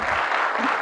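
Audience applause for a conference speaker taking the stage, a steady wash of clapping from a crowd held at an even level through the short moment.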